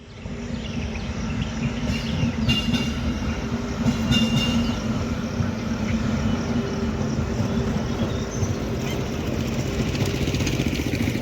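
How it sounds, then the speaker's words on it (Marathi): A train passes by near sugarcane and banana fields, a continuous low rumble and rattle of wagons heard from a moving electric scooter over steady wind roar. "एक ट्रेन आली"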